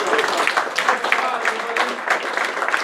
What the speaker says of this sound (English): So you get the candy, you get my thanks, and you get all this applause.